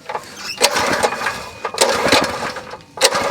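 Predator log splitter's small gas engine running steadily at about three-quarter throttle, a loud continuous mechanical drone with a few sharper bursts and clatters over the top, heard close up with no talking.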